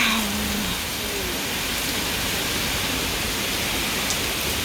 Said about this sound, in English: it's like blowing the rain sideways. Really hard.